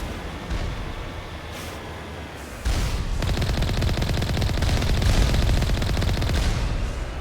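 Rapid gunfire erupts in the Mass Effect video game, a steady low rumble that jumps into a loud, sustained burst of automatic shots lasting several seconds.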